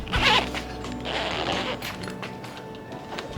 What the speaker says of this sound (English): And then start zipping your tent back up.